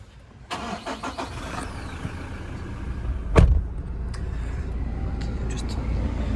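A 2017 Toyota Hilux SR5 engine cranks and catches with a short, loud burst, then settles into a steady low idle heard from close by inside the cab, with faint background rumble before the start.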